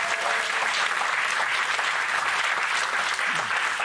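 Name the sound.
studio audience applause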